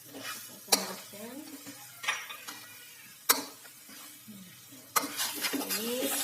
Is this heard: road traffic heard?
no